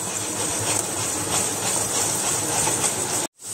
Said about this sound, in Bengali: এবার পেঁয়াজের মশলাটা ভালো করে ভেজে নেব।